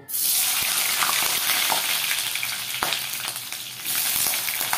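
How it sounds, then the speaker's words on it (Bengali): Pointed gourd and potato pieces hit hot oil in a kadai with a sudden burst of loud, crackling sizzle that keeps going strongly, with a few sharp pops and no talking. "এগুলোকে একটু ভেজে নেব।"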